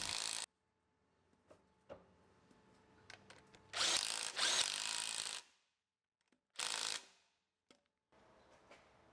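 Power tool driving bolts into a truck drive shaft during reassembly of a Yukon: several short whirring and ratcheting bursts, two longer ones a second or so each, separated by clicks and quiet gaps, close up, with no talking.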